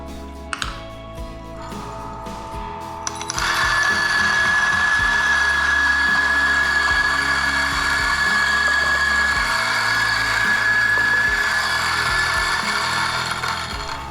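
A coffee grinder set finer grinds beans. A few seconds of quiet clicks and handling come first, then a loud, steady, high whirring runs for about ten seconds before easing off slightly at the end.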